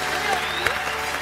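A studio audience on a Turkish comedy talk show applauds a guest taking a seat, steady clapping throughout with a presenter's voice and whistling rising over it.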